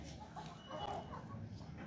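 Several hens cluck softly at feeding time on a goat farm, a faint cluster of low murmuring clucks and a brief call amid quiet background noise.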